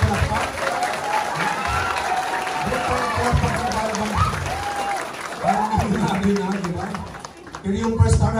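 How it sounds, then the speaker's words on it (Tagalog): A crowd at a sales training session applauds and cheers while someone talks loudly over it, clapping swelling and fading in waves. "Ibang palakpak yun, ibang palakpak."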